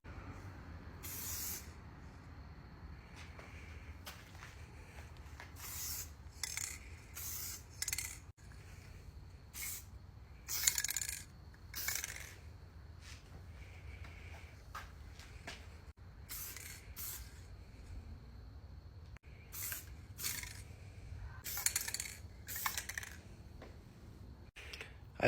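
Spray gun applies a light finish coat to a custom RG-style electric guitar, with repeated short hissing bursts separated by pauses, close and moderately loud, over a quiet background hum.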